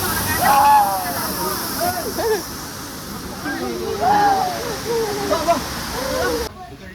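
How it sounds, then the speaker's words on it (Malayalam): A waterfall at Munnar roars as a steady broadband rush that persists throughout, with people talking over it most of the way before the sound cuts off near the end. "നല്ല അടിപൊളി സ്ഥലം കേട്ടോ, വെള്ളച്ചാട്ടമൊക്കെ നല്ല അടിപൊളി കിടുക്കാച്ചി വെള്ളച്ചാട്ടം."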